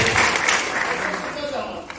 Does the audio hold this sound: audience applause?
yes